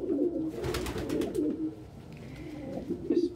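A blind pet bird named Bird gives soft, repeated cooing calls close by, with a few higher chirps from other birds in the same indoor space.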